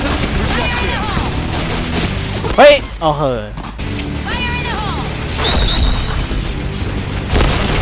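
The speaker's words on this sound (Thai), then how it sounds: "ระเบิดในเกมนี่มันไม่เอาครับ" Explosions and gunfire ring out in a Thai cash-shop gun shooter game, with dense booms and rattling shots under excited voices and exclamations across the whole stretch.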